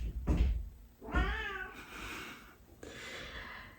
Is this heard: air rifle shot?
no